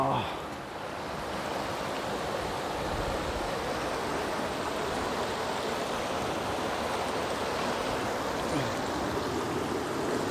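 River water rushing over and around rocks on the Bhavani river, a steady broadband roar of flowing water that stays loud and continuous throughout, with no voices.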